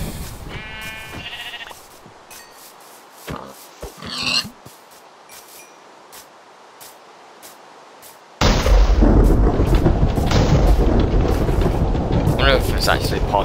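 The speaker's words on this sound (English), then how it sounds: "That must have been lightning." Thunder from a lightning strike in Minecraft, a sudden loud rumbling crash that starts partway through and keeps roaring, following sheep bleats and scattered game sounds with quieter stretches.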